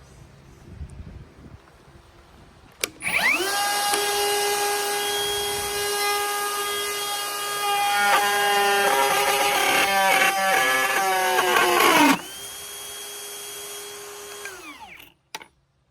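A Metabo HPT 36v cordless plunge router cutting along a track guide rail spins up sharply into a loud, steady high whine, dips and strains in the middle of the cut, then winds down after about nine seconds, followed by a final clunk.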